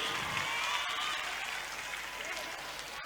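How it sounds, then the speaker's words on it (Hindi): An audience at a school annual function and cultural programme applauds, a dense, even wash of clapping that fills the space steadily for the full few seconds. "जोरदार तालियां"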